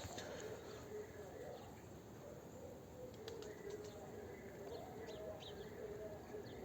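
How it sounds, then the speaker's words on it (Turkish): Pigeons cooing softly at a distance over steady outdoor ambience, with a few faint chirps scattered through. "Altında şu anda bayağı bir kalabalık kuş var arkadaşlar."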